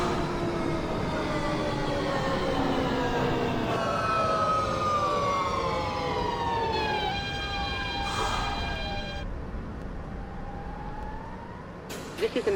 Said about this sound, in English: This is a Manhattan-bound F local train.